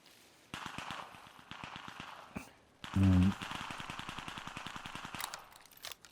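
Rapid bursts of video game gunfire rattle in quick succession, with a louder thumping blast midway, fairly quiet overall.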